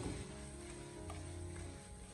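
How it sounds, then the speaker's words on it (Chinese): Seasoned potato slices stir-fry in a wok, giving a steady soft sizzle with faint scraping of the spatula as they are tossed, fairly quiet and with no talk. "立刻马上的将它快速的翻炒均匀，让调料可以充分的化开"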